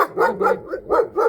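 A dog barks four or five times in quick succession on the way to a lake, loud and close, each bark short and evenly spaced.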